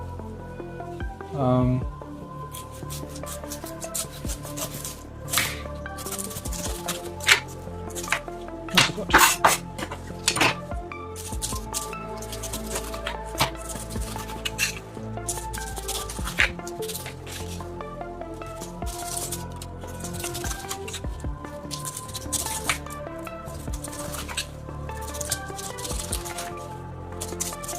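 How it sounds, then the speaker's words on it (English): A small knife works around a pineapple, cutting away its outer skin in a steady run of wet, squishy scrapes and occasional clicks against a plate or board, close up, with a brief murmur of speech at the start. "now we're going to remove this outer layer slowly by using this small knife"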